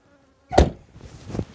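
A sharp burst of honey bee buzzing close by, then a softer second buzz, with faint background noise between.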